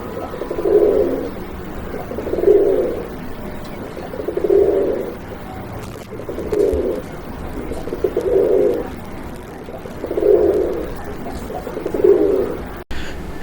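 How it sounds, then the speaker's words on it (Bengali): A racing pigeon coos close by, seven evenly spaced, low rolling coos repeating about every two seconds over faint background hum. "সুপ্রিয় দর্শক আমরা এই মুহূর্তে দেখতে পাচ্ছি চমৎকার একটা কবুতর রেসিং পিজন"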